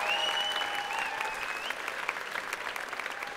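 An audience applauds a singer and her musicians at a live show, a dense steady round of clapping at moderate distance, with a bright tone held over it at first and some faint voices underneath.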